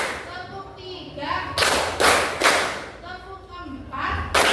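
A classroom of students claps together in a counted pattern, several broad group claps in a loose rhythm, fairly close, with a teacher's voice calling the count between them.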